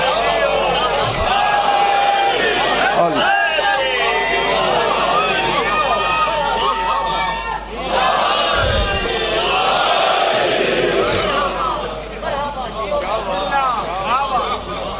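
Crowd at a Ramadan majlis raising loud religious chants and slogans together, a dense, continuous roar of many voices with shouted calls, close and steady for the whole stretch with a brief dip near the end.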